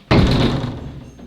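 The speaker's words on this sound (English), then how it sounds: "slam the door so hard" A door slams hard with one loud, close, heavy thud that dies away over about a second, heard alone without talk.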